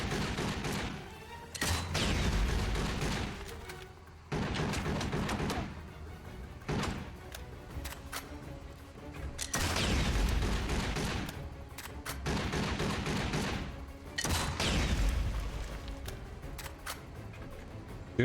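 Grenade launcher blasts and gunfire breaking through a wall in 007: Blood Stone on Xbox 360, a series of loud, sharp bursts and rumbling explosions at irregular intervals.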